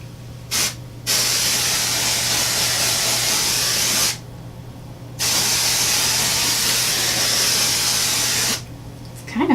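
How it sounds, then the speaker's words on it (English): Pink L'Oreal Colorista hair color spray hisses from an aerosol can in long bursts, loud and close, with short pauses between sprays as it's applied to the tips of the hair. "Kind of fun spraying it."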